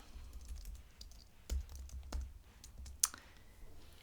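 Keys clicking in short irregular bursts on a computer keyboard while bookkeeping entries are entered into accounting software, with one sharper tap near the end, close and quiet, no talking.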